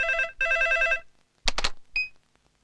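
A telephone rings on an outgoing call, two long electronic ring bursts followed by clicks and a brief tone as the line connects, close and with no voices.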